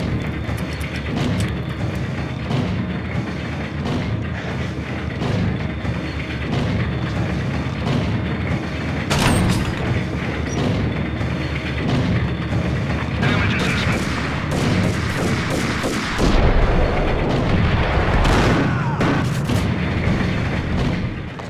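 Shotgun blasts and gunfire in Max Payne, heavy booming shots and rattling fire in a loud, continuous firefight, with a voice occasionally talking over the action.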